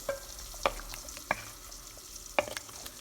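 A spoon scrapes and clinks against a pot as coconut paste is stirred into a gently simmering, sizzling mixed vegetable curry; quiet and close.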